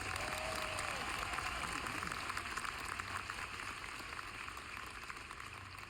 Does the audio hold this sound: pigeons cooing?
no